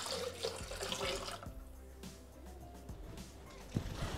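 Ice-cold lemon soda poured into a Thermomix bowl for homemade butterbeer: a steady, close splashing pour running for a few seconds, with a soft faucet-like rush and faint background tones.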